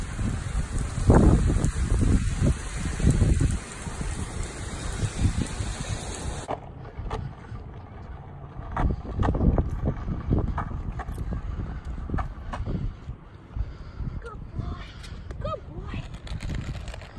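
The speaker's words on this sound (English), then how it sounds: "It's raining, huh?" Rain falls outdoors with a steady broadband patter, mixed with gusts of wind buffeting the microphone and rustling handling noise. A voice can be heard faintly now and then.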